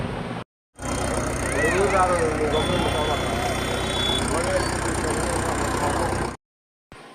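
Tractor engines idle in congested traffic near a bridge during a Ganesh immersion procession, a steady close mechanical rumble with crowd voices and whistle-like tones over it, starting and ending with brief silence.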